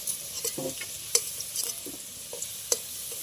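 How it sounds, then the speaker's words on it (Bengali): Potatoes frying in oil are stirred in a pan, giving a faint sizzle broken by light scraping and several sharp clinks of the spoon against the metal. "আলুটা কত সুন্দরভাবে ভাজা করে নিয়েছি পুরো লাল লাল সুন্দরভাবে ভাজা হয়ে গেছে"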